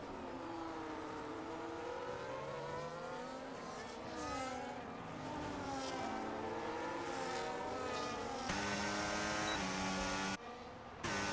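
Several Formula 1 cars in the F1 25 racing game at the Mexico City Grand Prix, engines whining and sweeping up and down in pitch as they pass and overtake, a continuous layered roar with no talk.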